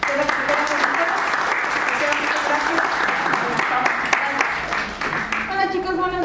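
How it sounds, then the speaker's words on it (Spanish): A school audience applauds a presenter with sustained, dense clapping that stays loud and even, while talk rises over it near the end. "damos un aplauso a la licenciada"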